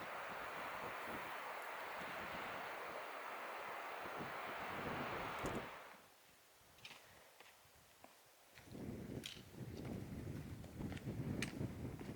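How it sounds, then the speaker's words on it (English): Strong wind roars and buffets the microphone in the Grand Canyon, suddenly dropping away to near quiet before gusting back in with faint crunching steps on a trail. "It's a bit windy, as you can tell."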